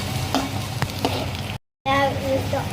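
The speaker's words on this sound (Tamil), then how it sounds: "கேரட் பீன்ஸும் நல்லா வதக்கட்டும்." Carrots and beans stir-fry in a pan for veg fried rice, giving a steady close sizzle with spoon scrapes and stirring knocks, cut by a brief moment of silence before the sizzling resumes.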